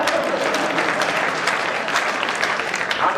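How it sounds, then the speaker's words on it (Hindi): Dense, steady clapping from a live audience at a Hindi comic poetry (hasya kavi) recital, sustained evenly throughout with no voices over it. "ताली बजाओ।"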